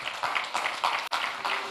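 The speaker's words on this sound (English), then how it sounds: "Please, a huge round of applause." An audience at the Ecobank Fintech Challenge semi-finals claps to welcome a speaker, giving a steady run of close, ringing clapping with a brief dropout near the end.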